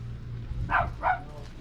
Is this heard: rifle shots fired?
no